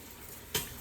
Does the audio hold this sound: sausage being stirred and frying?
yes